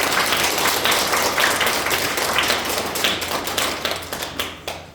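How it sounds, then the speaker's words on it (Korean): A lecture audience breaks into loud, dense clapping that swells at once and then thins and tapers off over several seconds, with no talk over it. "박수라도 한번 쳐줘야 해요"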